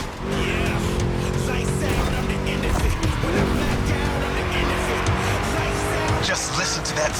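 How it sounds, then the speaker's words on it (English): A V8 race car engine from the video game The Crew Motorfest roars steadily with sustained revving harmonics and tire squeal throughout, loud and close, with faint voice in the mix. "Just listen to that V8, like a chunky, down-tuned guitar riff."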